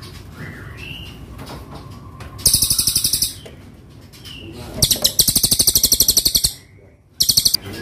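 A big-bodied forest magpie robin (murai hutan) sings loud, close bursts of rapid, ringing trilled phrases, separated by short pauses, over faint background noise.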